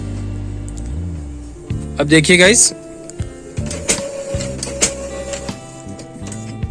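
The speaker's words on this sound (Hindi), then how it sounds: "प्रिंटर पेपर को पिकअप नहीं कर पा रहा है।" An Epson L3110 inkjet printer whirs and clicks through its motors while failing to pick up paper during a copy, a mechanical drone with rattling bursts under someone speaking Hindi.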